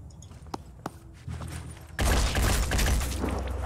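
Gunfire in the Phoenix Point strategy game: a few sparse clicks and thumps, then a sudden loud sustained volley of shots crackling densely to the end.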